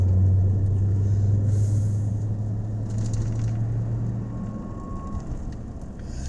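A black pickup truck with a camper shell drives past on a road, its low engine rumble and tire noise steady at first, then fading as it moves away.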